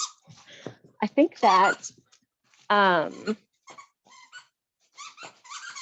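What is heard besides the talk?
dog playing with a really loud toy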